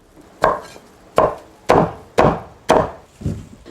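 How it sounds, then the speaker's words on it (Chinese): A knife chops carrots and corn on a cutting board in six loud, evenly spaced strikes, each a sharp thwack that fades quickly, with no voices. "再切点胡萝卜和玉米哈"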